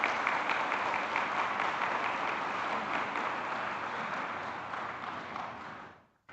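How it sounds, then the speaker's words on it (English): Steady audience applause at a higher-education conference, a broad even roar of many hands clapping that fades out near the end. "I think you can give a resounding applause"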